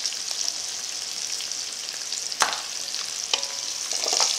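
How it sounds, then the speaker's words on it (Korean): Hard vegetables such as onion sauté in a spoonful of butter in a pan after bacon, giving a steady close sizzle with a few sharp clinks of stirring. "그런 같은 팬에 버터를 한 스푼 넣어주고 식감이 딱딱한 채소들부터 먼저 볶아주시면 돼요"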